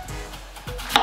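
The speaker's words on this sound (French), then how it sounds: "Ma façon préférée pour enlever le cœur d'une pomme, c'est de couper tous les côtés." A knife slices through an apple beside its core, producing a few quick, close cutting crunches that end in a sharp knock on the board.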